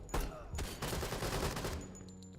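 Gunfire rattles in the Door Kickers 2 tactical game as rounds are traded in an office map, a short burst of several rapid shots blurring into a dense crackle, close but moderately quiet, with no talking.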